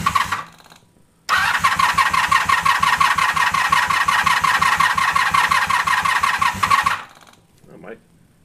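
A 1982 Honda Magna VF750 V45 motorcycle started with no choke: brief cranking, then the engine catches and runs loud and close with a rapid, even pulsing idle for several seconds before shutting off.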